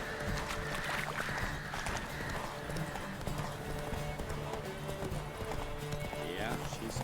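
Horse hooves gallop in a fast, steady rhythm in The Witcher 3, with whinnies, loud game ambience and voices talking over the pounding throughout.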